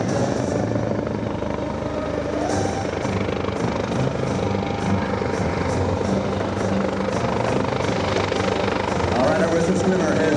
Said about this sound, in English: the helicopter is back inbound.